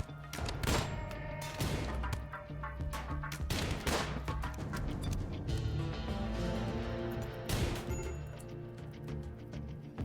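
Gunfire in the RimWorld colony-building game, a series of sharp shots and thumping impacts scattered irregularly over ten seconds against a steady background music bed.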